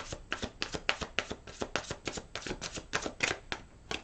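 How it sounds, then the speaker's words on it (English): Tarot cards being shuffled in a quick run of crisp, papery riffles and taps, close up and fairly loud, with no talking. "One more shuffle here."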